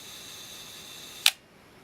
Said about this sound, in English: We'll watch the shutter actuate when it reaches the end.